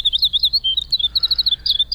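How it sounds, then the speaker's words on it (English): Winter wren (Troglodytes hiemalis) song: a rapid run of high, thin chirps and trills in quick rhythmic bursts, clear and fairly close with no talk. "Troglodytes hiernalis, the winter wren, today's Talkin' Birds featured feathered friend."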